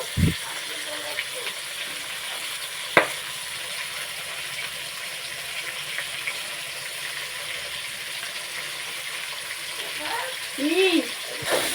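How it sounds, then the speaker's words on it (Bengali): Goat meat curry with green chillies being stirred and fried in a pan, giving a steady, hissing sizzle throughout with a few faint scraping knocks. "এরপর একটু নেড়ে নিচ্ছে একটু লালচে লালচে হয়ে আসবে"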